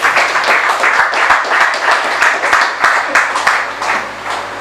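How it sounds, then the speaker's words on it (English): An audience gives a round of applause at an event, with dense, steady clapping that stays loud and close for several seconds before easing slightly toward the end. "Please, let me give her a round of applause."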